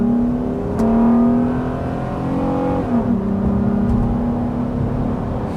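A 2000s Acura engine revs up under acceleration, a loud close whirring drone rising in pitch, easing, then climbing again as the car pulls through its gears, with no talking.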